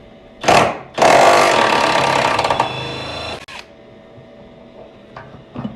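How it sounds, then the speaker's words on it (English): A Matco power tool, likely an impact wrench, breaks loose the last side bolt on a transmission mount of a jacked-up car: a short burst, then a longer loud whirring run of about two seconds, followed by quiet shop ambience. "Gosh, I love Matco power tools."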